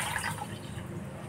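Water poured into a cooking pot in a home kitchen while making chane ki bhaji with rice, a short, soft, steady splashing pour with no voices.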